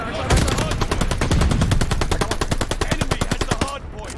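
Rapid automatic gunfire in Call of Duty: Vanguard ranked multiplayer, a steady, loud stream of close shots lasting nearly four seconds, with a voice faintly underneath.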